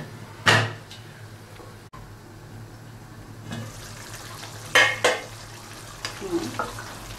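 Large chicken pieces, including leg pieces, simmer with a little water in a covered kadai for Bengali kadai chicken, giving a low steady sizzle broken by a few sharp clattering bursts of lid and utensil.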